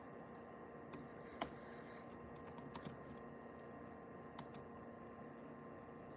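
Someone types on a computer keyboard: faint, scattered key clicks, with a few sharper taps, over a quiet room hum.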